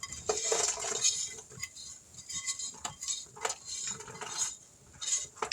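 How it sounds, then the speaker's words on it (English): Candied peanuts with their liquid absorbed are scooped and spread onto a baking pan, making irregular close metallic scrapes, clinks and rattles in bursts with brief quiet gaps. "All right, the liquid's absorbed, so now we're going to put them on this pan."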